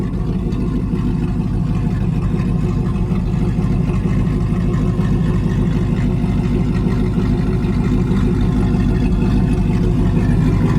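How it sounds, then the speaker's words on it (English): A supercharged Hemi V8 runs loud and close in a continuous, steady rumble, its uneven chop from the supercharger carrying through the whole stretch. "Hear the supercharger chop with it."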